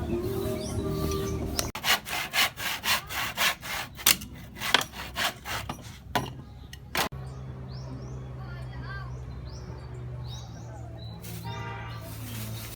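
Hand saw cutting wood for a door: about a dozen quick rhythmic rasping strokes, close and fairly loud, then stopping as birds chirp and background noise continues.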